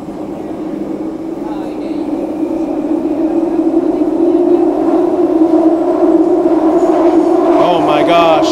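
A London Underground tube train roars loudly and steadily, building into a high metallic screech toward the end, with a voice speaking over it.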